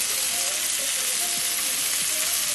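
Asparagus and tomatoes sauté in a hot pan, giving a loud, continuous, close sizzle with faint soft pops and no talking.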